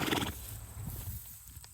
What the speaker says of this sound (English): that sound right there is a very calm horse